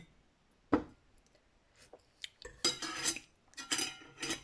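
Sharp knife taps on a cutting board while chopping shallots, a single knock then quick clustered chops in bursts, close and fairly quiet.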